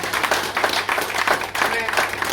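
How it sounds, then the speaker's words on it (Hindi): Brief applause from an audience at an Ambedkar Jayanti event in an SC-ST union office, a burst of scattered clapping mixed with voices and background talk. "जोरदार तालियां"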